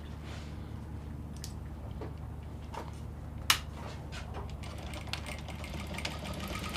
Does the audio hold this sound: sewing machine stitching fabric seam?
yes